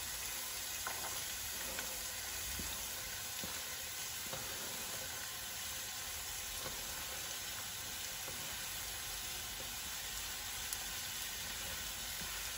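Onion and carrots sizzle in hot oil in a pan while tomato soup is being made, a steady, dense frying hiss with faint scattered crackles, close and continuous with no talking.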